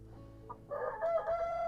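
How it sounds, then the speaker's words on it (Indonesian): Barred Plymouth Rock chickens roam free outdoors on a cold, sunny day: a short cluck comes first, then a sustained, fairly close rooster crow rises over a low background hum. "Ayam-ayam kita umbar"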